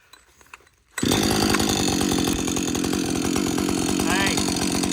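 A repaired chainsaw engine starts abruptly after near-silence, then runs on loud and close with a steady buzzing idle.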